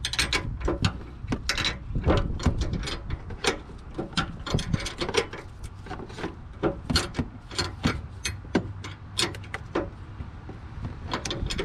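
An impact wrench spinning off a strut fastener on a 2007 Chevrolet Tahoe makes a rapid, uneven clatter of mechanical hits and ratcheting bursts, close and sustained.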